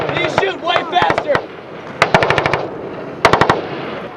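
Marine Corps machine guns fire in short, sharp bursts of several rounds at the 29 Palms range, loud and close, with shouted voices between the bursts.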